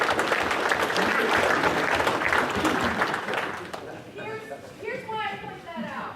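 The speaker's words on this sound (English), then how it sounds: "Give that man a hand, a round of applause." A room full of soldiers and guests breaks into loud, sustained applause for a fellow soldier standing up, dense clapping filling the first four seconds before thinning out as a voice begins speaking over the fading claps.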